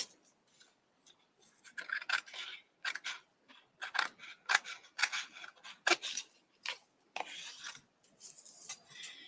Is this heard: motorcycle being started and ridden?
no